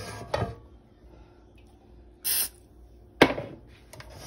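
Cooking oil sprayed onto skinless boneless chicken strips in an air fryer: two short, sharp hissing bursts a second apart, with faint clicks and clatter of the basket around them.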